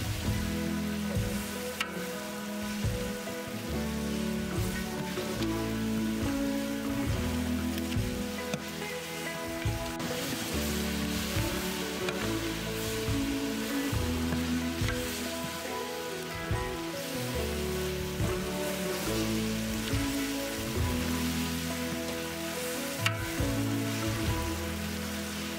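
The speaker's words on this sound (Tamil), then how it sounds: "இப்போ நம்ம வெங்காயத்தை போட்டு நல்லா வதக்கிக்கலாம்." Chopped onions sautéing in a pan for mutton biryani give a steady, dense sizzle, like rain, that runs unbroken at an even level from start to end.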